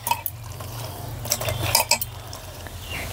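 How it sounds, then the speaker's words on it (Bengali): Soft pitha being stirred through sugar syrup in a pot, with a few close utensil scrapes and clinks against the metal spread unevenly across a short stretch, over a steady low hum. "এবার রসের সঙ্গে ভালো করে একটু নেড়ে চেড়ে নেব"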